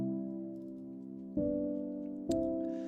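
Soft lo-fi piano chords, a sustained mellow chord followed by two new chords struck about a second apart, each ringing out cleanly with no voices.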